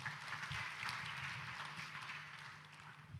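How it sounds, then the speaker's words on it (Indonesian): Applause from a seminar audience at an Indonesian business talk, a steady broad wash of clapping that fades slightly toward the end, with a low hum underneath. "Tepuk tangan buat Anda semuanya"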